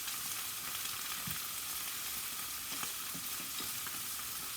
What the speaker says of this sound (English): So I'm going to let these simmer first.